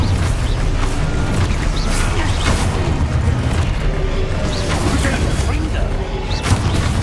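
Exposo explosion spell cast in the video game Hogwarts Legacy, with continuous loud booms and crashing magic effects under a voice shouting.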